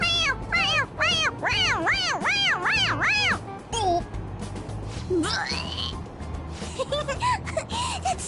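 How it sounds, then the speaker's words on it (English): A cat toy in Persona 5 Royal meows when pressed, giving a quick series of high, bending meow cries close up, then scattered squeaky calls and voices talking over a low background hum. "It meows when you press on its head."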